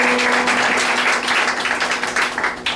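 A church congregation applauds and acclaims the Lord with steady, dense clapping mixed with cheering voices throughout.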